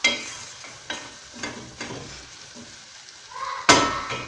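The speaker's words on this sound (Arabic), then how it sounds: "نفتوه شويه يتقلى حتى هو معاهم باش كامل المقادير تاعنا تندمج" Vegetables fry in a pan for rice while a spoon stirs them, a close steady sizzle broken by several distinct scraping strokes at irregular intervals, the last one louder than the rest.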